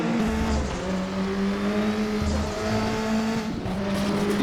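Racing car engines at Knutstorp Ring, including a Volvo 240 Turbo touring car, droning and revving continuously with shifting pitch and brief tire squeals, loud and close.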